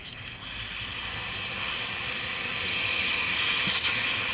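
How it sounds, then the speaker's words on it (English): A steam cleaner running on high pushes steam through a car's air vent system, producing a loud, continuous hiss that swells slightly toward the end, with no voices. "So as you can see, we'll start to get steam out of other holes."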